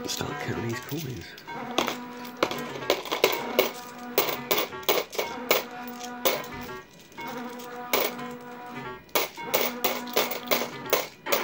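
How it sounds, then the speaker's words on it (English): Coins clink and rattle in rapid bursts as they are counted beside slot machines. The sharp metallic taps come in clusters between brief pauses, close and fairly loud, with faint background talk. "Start counting these coins"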